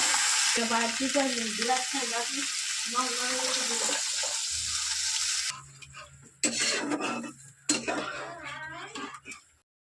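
Water poured into a pan of sizzling fish curry base gives a loud hiss and bubbling, then the frying quiets into softer sizzles and clatters, with a brief voice in between.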